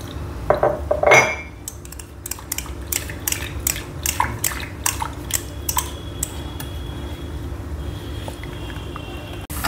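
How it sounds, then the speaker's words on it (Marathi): A spoon stirs oats dosa batter in a bowl, making a steady run of light clinks and taps against the bowl's side, fairly quiet with one louder knock near the start and no talking. "आता हे सगळं आपल्याला अगदी व्यवस्थित मिक्स करायचं आहे."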